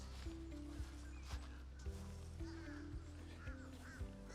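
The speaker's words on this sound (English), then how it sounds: "I don't know if you hear those birds. Those birds are driving me crazy." Ducks or geese quack and honk repeatedly, a steady noisy chorus of calls at regular intervals over a low background hum.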